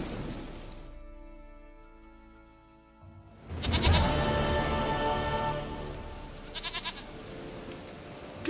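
A goat in The Witcher 3 game world bleats loudly and close at mid-clip over soft rain and ambient hum, followed by a few quieter trailing bleats.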